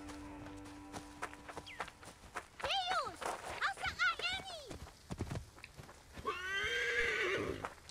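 A horse in Assassin's Creed Origins whinnies loudly twice, with clip-clopping hooves and footsteps underneath, the second neigh long and drawn out near the end, amid other game ambience.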